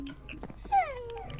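Dog sounds in a survival video game: a short high whimpering yelp that slides downward, with small clicks and faint background rumble before it.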